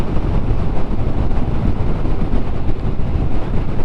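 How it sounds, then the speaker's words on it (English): Heavy, continuous wind roar buffets a rider on a Harley-Davidson Street Bob 114 cruising in sixth gear at about 67 mph, a loud broadband rush that drowns out everything else. "Wind blast, I'm getting all of the wind"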